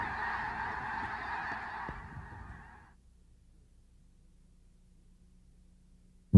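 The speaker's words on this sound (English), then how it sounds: "And great numbers of snow geese." Great numbers of snow geese honk together in a noisy distant chorus at a wetland refuge, fading out after about three seconds into near silence.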